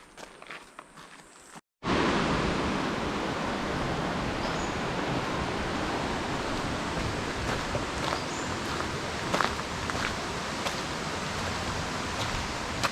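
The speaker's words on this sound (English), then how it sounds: "Hear the thunder of the water cascades over the boulders." Water cascades over boulders at Carolyn Cascades near Mackay, a steady broadband rushing roar heard close and loud, with a few small clicks and rustles on top.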